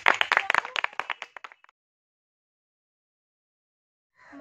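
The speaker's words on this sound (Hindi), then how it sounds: "जोरदार तालियों से इनका स्वागत करते हैं" Applause from an audience at a school Teacher's Day function, a burst of close, loud clapping for about a second and a half that quickly dies away into silence before a voice begins.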